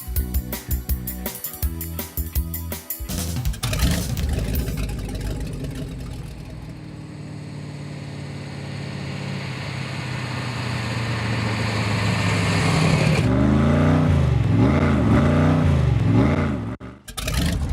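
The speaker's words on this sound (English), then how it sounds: "You think before we leave we could take a ride in that Cobra?" A Cobra sports car's engine barks and revs hard close by, then holds a long rising drone as the car pulls away, with a few surging rev swells near the end before it cuts off.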